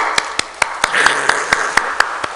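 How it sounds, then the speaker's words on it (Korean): Church congregation clapping together in a slow, even beat of about ten sharp, loud claps, with a faint murmur of voices underneath. "자, 박수 같이 칩시다."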